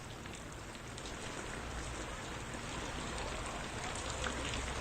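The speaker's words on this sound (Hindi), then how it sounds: "आप देख सकते हैं कि यहाँ पे शदीद बारिश हो रही है।" Heavy rain falling steadily in Bandipora, Kashmir, a dense continuous hiss of drops on surfaces that holds at an even, moderately loud level throughout with no voices.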